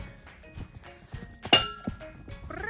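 A few dull hoof thuds on soft ground as a horse jumps an obstacle, with one sharper impact midway like a landing, plus faint background voices.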